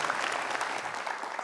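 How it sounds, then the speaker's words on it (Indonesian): Audience applause at an Indonesian motivational stage show, a dense, even patter of clapping from a large crowd, heard steadily and at moderate loudness throughout. "tepuk tangan sekali lagi untuk Mas Trias"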